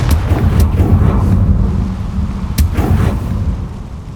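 A Confringo fire spell explodes in the Hogwarts Legacy video game, giving a loud, close, rumbling blast with sharp cracks at the start and again midway, then a fading roar.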